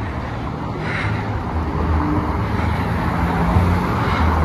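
Steady car traffic on the Brooklyn Bridge, a loud continuous low roar of engines and tires rolling past, with no clear gaps between vehicles.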